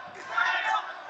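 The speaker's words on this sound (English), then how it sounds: "The crowd are going wild." A boxing-arena crowd roars at a China versus Philippines bout between Xingquang Zhao and Reymond Yanong, a dense, sustained wall of cheering and shouting voices in a brief burst.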